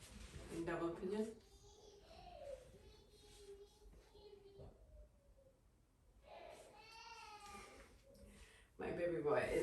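A baby boy cries and fusses, wanting milk, in bursts across a quiet room during a home yoga session, with soft whimpering and a louder wail at the end.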